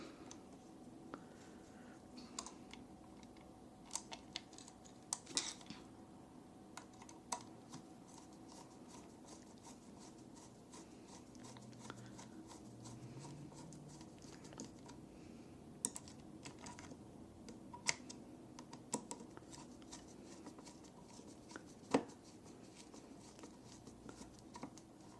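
Small screws are driven into the battery cover of a Sideman SM-1 portable guitar amp, making faint, scattered clicks and ticks at an irregular pace over a quiet, close room background.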